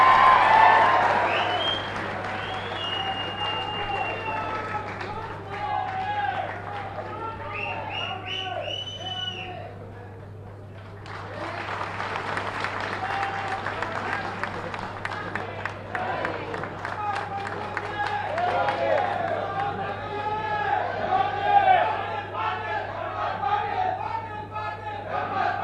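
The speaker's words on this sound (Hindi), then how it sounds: "आप तालियां बजा के स्वागत" A political rally crowd claps and cheers to welcome Bommai, a dense, sustained wash of applause with shouts rising and falling over about twenty-five seconds, briefly thinning midway, under a steady low hum.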